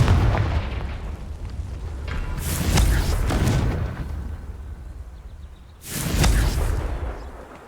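A Confringo blasting spell explodes in the Hogwarts Legacy video game with deep rumbling booms, one at about three seconds and a second heavy blast near six seconds, both over a low, continuous rumble.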